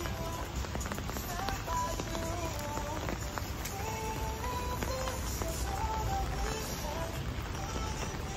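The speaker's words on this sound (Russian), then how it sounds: "Дождь идет." Rain falls steadily on surfaces outdoors on a village street, a constant close patter and drip heard throughout, with faint voices in the background.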